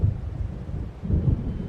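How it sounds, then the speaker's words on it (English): Low thunder of an approaching storm in the video game Alan Wake, a deep rumbling roll that swells, eases and returns within a couple of seconds, with faint rain hiss beneath. "It seems there's a storm coming."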